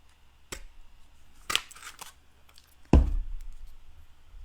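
A cutting tool snips through material in a workshop: a few crisp, isolated clicks and cuts spaced apart, with one heavier clunk near the end, close and fairly quiet over a faint background hum.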